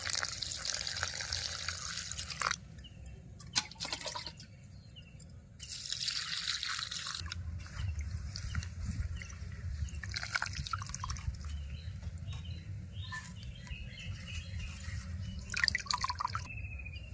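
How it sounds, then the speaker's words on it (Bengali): Drumstick (sajna) leaves are washed in water with intermittent bursts of splashing and swishing, interspersed with quieter stretches of dripping and trickling close by. "শাক বেছে নিয়েছি এবার ধুয়ে নেব"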